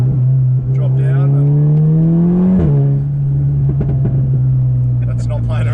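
A Stage 3, 460 hp VW Scirocco with its exhaust valves open: the engine drone climbs steadily in pitch for a couple of seconds, then drops back and settles to a loud, steady rumble, with voices talking over it.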